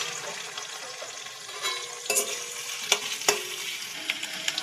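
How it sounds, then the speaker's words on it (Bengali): Three sliced potatoes fry in oil until lightly reddened for a Bengali cauliflower-and-rohu fish curry, giving a steady close sizzle broken by a few sharp clicks of a spatula stirring the pan. "এইভাবে একটু আলুগুলোকে হালকা লাল লাল করে ভেজে নিতে হবে।"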